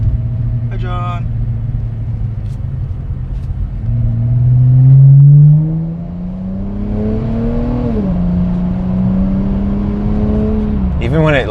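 A 2018 Dodge Challenger SXT Plus accelerates in a steady engine drone from inside the car, its revs climbing and then dropping at each of a few gearshifts.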